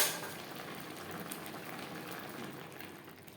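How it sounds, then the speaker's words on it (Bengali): A pumpkin and Malabar spinach curry bubbles steadily in a pan over a high gas flame, a soft continuous simmer with no talking. "আর একটু জল শুকিয়ে নেব। তিন 4 মিনিট হাই ফ্লেমে রান্না করে নেওয়ার পর"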